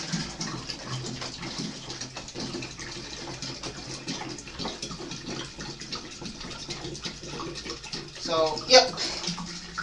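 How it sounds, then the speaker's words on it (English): Sugar water poured into a jug of homemade wine, a steady liquid pour and splash running throughout and rising briefly near the end, with a short spoken remark over it. "We're going to be adding sugar water."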